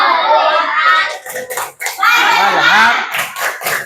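Children in an elementary school computational-thinking lesson perform the 'tepuk fokus' clapping chant, with sharp rhythmic hand claps mixed with their chanted voices, loud and close, with a teacher's voice nearby.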